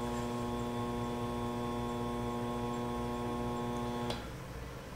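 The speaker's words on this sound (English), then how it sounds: "This blade took about 5 revolutions to cut through the test media" A Swan Morton scalpel blade rests on test media turning on a rotating spindle, giving a steady machine hum with faint ticking; it ends abruptly in a sharp click as the cut breaks through.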